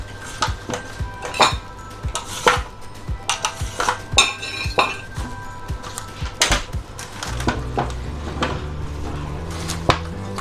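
Knife chopping canned white asparagus into small pieces, sharp irregular taps of blade on board with occasional clinks of utensils, close and clear without talk.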